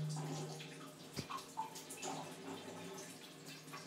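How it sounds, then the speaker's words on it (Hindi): Water runs from a partly opened tap through an instant electric water heater, a steady moderate gush and patter with faint dripping and gurgling and a low electrical hum underneath. "अभी मैंने थोड़ा सा ही वाटर टैप को खोला है,"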